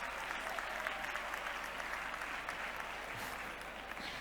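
An audience at a mathematics talk claps continuously, a steady wash of applause at moderate distance with no break, and no voices rise above it.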